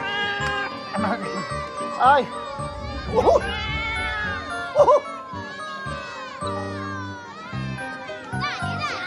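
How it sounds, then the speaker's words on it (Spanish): A kitten meows repeatedly in high, wavering cries mixed with exclamations and talking from nearby people. "mira, gatito con papá"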